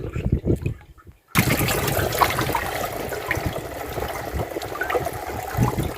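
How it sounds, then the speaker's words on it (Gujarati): Irrigation water running into a wheat field, a steady rushing and trickling flow after a brief quiet gap at the start, with scattered faint clicks and knocks. "આમાં છે ને પાણી ચાલુ છે આ ઘઉંમાં"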